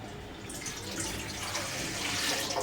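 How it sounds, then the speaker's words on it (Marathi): Water pours steadily into a cooking pot, which will be heated to make dough for coconut-filled steamed karanji. The rushing stream is fairly close and builds slightly in strength, with no talking. "आपण एका भांड्यामध्ये पाणी गरम का ठेवूया."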